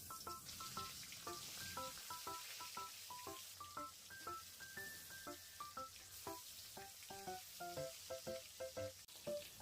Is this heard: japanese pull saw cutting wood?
no